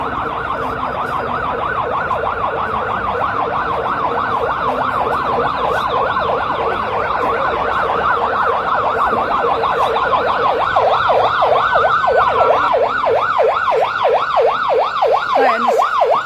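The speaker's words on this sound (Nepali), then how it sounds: "निषेधित क्षेत्रभित्र एम्बुलेन्स परेको छ। एम्बुलेन्स पनि निषेधित क्षेत्र तोडेर जान पाएको छैन।" An ambulance siren wails loud and close without a break, cycling up and down in a steady rhythm. The ambulance is held up at a multi-layer restricted-zone barricade near a presidential building, with faint traffic noise behind it.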